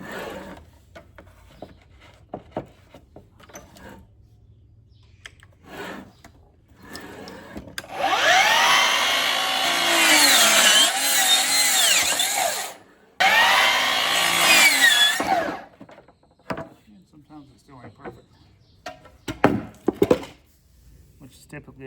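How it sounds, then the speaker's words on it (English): A miter saw cuts wood while prepping a greenhouse for storms. Two loud, close bursts of whining motor and blade rip through the board, separated by a short pause, with handling knocks and clatter before and after. "this miter saw does that for me"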